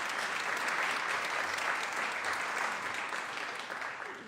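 Steady, dense applause fills a legislative floor session as senators honor a neurosurgeon and a scientist, sustained and fairly loud throughout, fading slightly toward the end with no talk over it.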